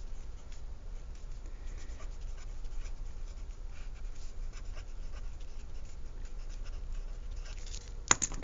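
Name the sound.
writing out a chemistry equation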